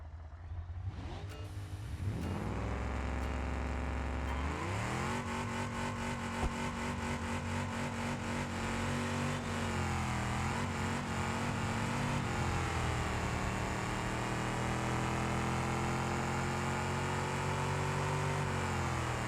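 A car engine revving up from low and climbing into a sustained, loud high-rpm drone, pitch rising sharply early and then holding with slight wavering for a long stretch, no talk.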